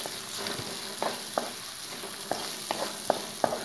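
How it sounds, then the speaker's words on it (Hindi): Onion softens gently in a little oil in a pan with a soft continuous sizzle, broken by several light scraping stirs at irregular intervals, close and fairly quiet. "उसमें प्याज को हल्का सा हमने नरम करना है, फ्राई नहीं करना, हल्का सा नरम करना है"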